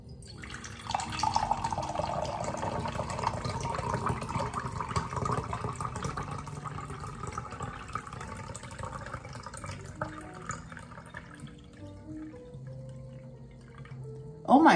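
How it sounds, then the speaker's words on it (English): Cold-brewed tea poured from a kettle into a cup makes a steady, close liquid trickle that runs for around twelve seconds before stopping, followed by a brief louder knock at the end. "Let me pour it out for you so you can see."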